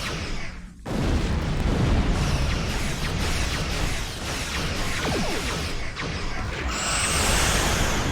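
Photon torpedoes fire and detonate in Star Trek Online space combat, a sustained loud wash of booming blasts and whooshes with a bright hissing sweep near the end, no talking.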